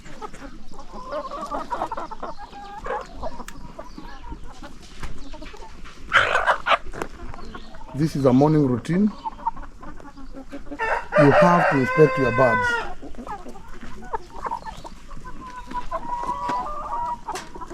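Poultry flock at a morning inspection, chickens clucking and a rooster crowing twice in the middle, set against steady barnyard background while someone talks throughout.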